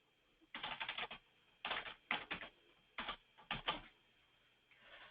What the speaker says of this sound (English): here they'll actually type in their name